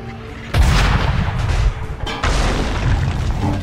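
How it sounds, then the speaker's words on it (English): Gunfire aimed at the advancing king's army in Assassin's Creed 3, heard as a loud booming blast that rings on, followed by a second heavy burst of firing and rumbling noise with no talking over it. "Use this gun to stop them!"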